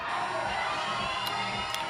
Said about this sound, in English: The crowd here is fantastic